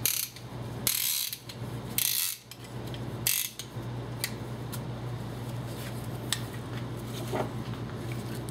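Ratcheting clicks from a piston ring compressor, an inexpensive Sears tool, being tightened around an engine piston; three loud bursts of rapid clicking in the first few seconds, then sparser, fainter clicks over a steady low hum, with no talk.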